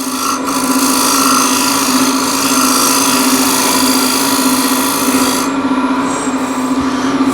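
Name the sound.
shear scraper finishing a wooden bowl on a lathe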